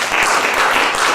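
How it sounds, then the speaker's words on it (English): A large conference audience gives dense, steady applause at a startup funding event, many hands clapping loudly and evenly throughout. "let's give a big round of applause to Stephen Gaffney"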